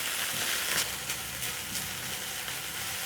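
Bacon sizzling in a frying pan for breakfast, a steady close hiss of frying fat with faint crackles, continuous and alone.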